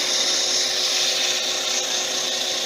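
Steady, continuous abrasive hiss of 180-grit sandpaper against a spinning antler pen blank on a lathe, an even rushing scrape held close and loud throughout with no pauses.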